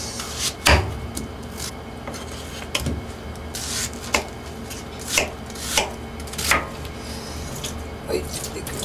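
A knife cuts onions into large chunks for curry on a cutting board, producing a series of sharp, evenly spaced chopping thuds at close range over a low background.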